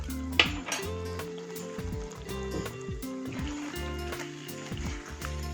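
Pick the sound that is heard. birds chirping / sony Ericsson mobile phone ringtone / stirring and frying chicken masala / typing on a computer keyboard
stirring and frying chicken masala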